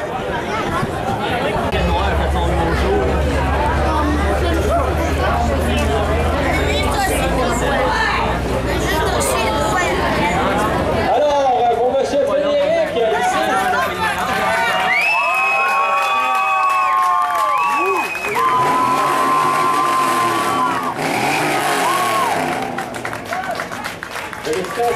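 A crowd at the Bedford, Quebec auto fest contest applauds and cheers loudly, a dense sustained roar with whistles and shouts over a running engine and background chatter, later thinning to a whistling, hooting din.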